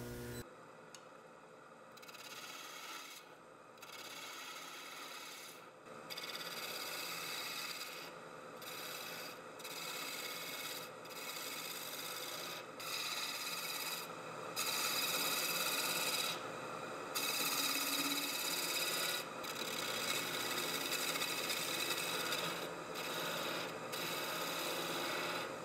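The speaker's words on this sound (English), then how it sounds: "I'm going to take a skew chisel and just very lightly define the shape of my cup." A skew chisel takes light cuts on a wooden long-stem goblet spinning on a lathe, giving a steady dry rasping scrape that comes in short bursts and pauses, close and fairly loud, with no talking.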